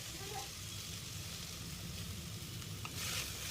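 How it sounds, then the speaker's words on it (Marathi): Cut vegetables and sweet corn sauté in a hot pan for white sauce pasta, giving a steady, even sizzle throughout with a brief stirring scrape near the end and no talking. "ज्या कट केलेल्या भाज्या आहेत त्याच्यामध्ये आपण परतवून घ्यायच्या आहेत"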